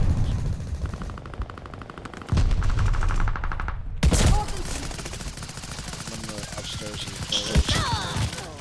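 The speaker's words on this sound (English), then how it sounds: "Someone's firing at me from the right." Gunfire in Call of Duty: Vanguard, dense automatic bursts and sharp single shots crackling continuously as a player talks over the battle noise.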